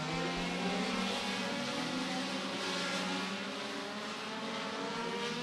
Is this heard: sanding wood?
no